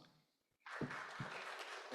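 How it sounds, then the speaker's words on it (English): Audience applause at a university study-program event, a soft start followed by a sudden swell of steady clapping from a crowd that keeps going, heard faintly at a distance. "Give applause"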